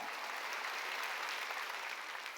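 A congregation claps together during a Wednesday church worship service, a dense, even burst of applause at moderate distance lasting a couple of seconds with no talk over it.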